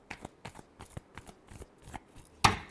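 Tarot cards being shuffled by hand during a reading, a series of soft rhythmic riffling flicks at close range, ending in one sharper slap of the deck.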